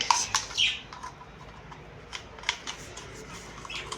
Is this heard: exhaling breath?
no